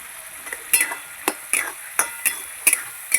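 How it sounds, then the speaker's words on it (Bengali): Potatoes are stir-fried with turmeric, salt and spices in a pan: a spatula scrapes in sharp, regular strokes about twice a second over a faint sizzle, close and alone. "আলুর সঙ্গে মশলা কষিয়ে নেব"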